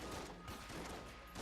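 Freezing gun firing in Enter the Gungeon, a continuous rattling stream of quick shots, steady and fairly quiet throughout.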